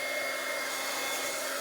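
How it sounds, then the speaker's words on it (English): A blow dryer runs continuously close by as it dries painted leaves, giving a steady, loud, unbroken whirring rush with a faint whine and no talk over it. "I can hit it with a blow dryer."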